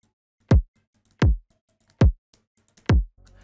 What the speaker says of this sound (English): This is how the kick sounds without any effect.